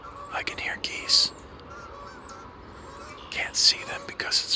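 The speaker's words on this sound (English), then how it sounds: "I can hear geese." Geese honk in short bursts from a foggy Civil War battlefield near a wooden footbridge, the calls distant and intermittent beneath soft whispered speech.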